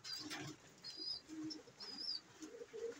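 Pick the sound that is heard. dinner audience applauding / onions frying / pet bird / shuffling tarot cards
pet bird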